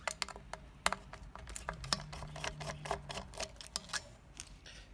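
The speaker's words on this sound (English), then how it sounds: "Unscrew these four screws here" The four pickup screws are unscrewed from an electric guitar, making small irregular clicks and metallic ticks of the screwdriver close by, with a faint squeak partway through and no talking.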